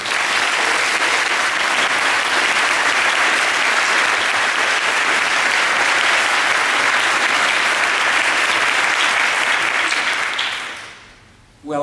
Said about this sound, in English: So can we have a big round of applause for Earl Palmer?